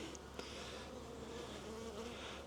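Honey bees in an opened, insulated condensing hive during a spring inspection produce a faint, continuous buzzing hum that holds steady throughout, with no talking.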